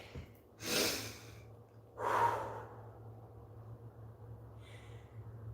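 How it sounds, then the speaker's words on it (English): Slow, deep breaths during meditation, two long exhales a second or so apart, soft and close against a quiet low hum. "You focus on your breath work"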